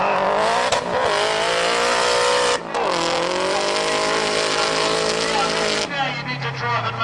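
A Nissan 180SX drift car at a Drift Nats round screams at high revs with tyres squealing, loud and close, the engine note dipping briefly twice before surging again, with a commentator talking over it.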